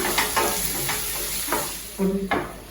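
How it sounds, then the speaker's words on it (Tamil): Tomato being sautéed with vegetables in a pan, a close, steady sizzle broken by several scraping stirs of a spoon against the pan. "தக்காளியை போட்டு சேர்த்து வதக்க போகிறேன்"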